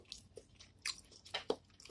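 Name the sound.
chewing crispy chicken with hot sauce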